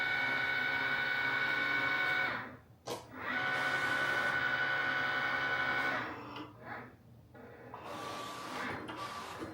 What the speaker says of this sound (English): The Siser machine is already done doing all the reading of the registration marks, and we're already in the cutting process with the Siser.